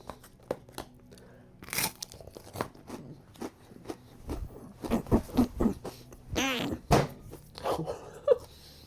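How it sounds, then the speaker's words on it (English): Crunchy rice cakes bitten and chewed as part of a lunch, giving a run of close, dry crunches and chewing clicks in short bursts with pauses between bites. "now I'm going to start with the rice cakes"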